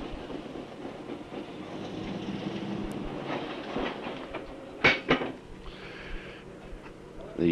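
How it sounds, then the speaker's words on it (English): Railway cars are coupled to the engine on a switchback of the old CPR line up the hill to Rossland, one sharp bang followed by a second knock, standing out over a steady rumbling train and yard noise. "The bang you hear is the cars being coupled again to the engine in preparation for the trip up the hill to Rossland from the switchback"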